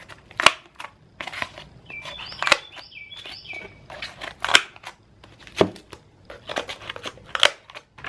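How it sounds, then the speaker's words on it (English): Heavy cardboard being cut with a pair of survival gadget scissors: a series of sharp, close snipping crunches at an irregular rhythm, with faint squeaky chirp-like tones between some cuts. "Let's see if it's going to cut the cardboard."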